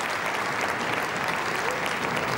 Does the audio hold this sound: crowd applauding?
yes